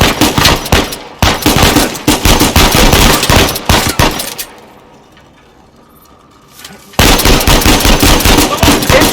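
Rapid bursts of gunfire in Uncharted 4, loud and dense automatic shots for several seconds, a brief lull with low ambience, then another heavy volley of shooting.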